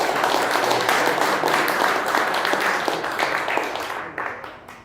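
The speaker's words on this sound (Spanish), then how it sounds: "Yo creo que sí merece el aplauso." Audience applause at a gathering of a national federation of professional women, a dense, sustained wash of clapping that gradually thins and fades out near the end.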